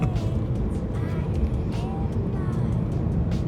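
BMW M3 with a basic aftermarket exhaust gives a deep, steady rumble from its rear pipes, loud and close throughout with no clear breaks.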